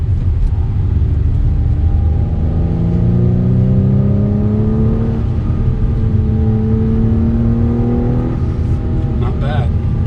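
A 2021 Acura TLX SH-AWD's engine revs hard on a canyon road, its tone climbing through the gears in repeated rising sweeps over a loud, close cabin rumble, with a brief voice near the end.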